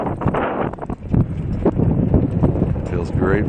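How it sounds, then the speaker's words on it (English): Wind gusts across the microphone on Shade Mountain Road in Pennsylvania on a cold evening, a loud rumbling buffet with rustling and footsteps mixed in, heard under a voice. "Wind is gusting now."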